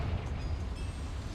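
A Confringo blasting spell goes off in Hogwarts Legacy, a sustained low rumbling boom with crackling noise that fills the whole moment at steady, fairly loud level.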